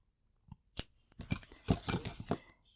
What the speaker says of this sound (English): I'm going to cut my white yarn